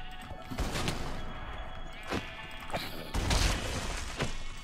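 A sheep in the video game Minecraft bleats several times amid thuds and crashing game sounds, fairly loud and close, with no speech.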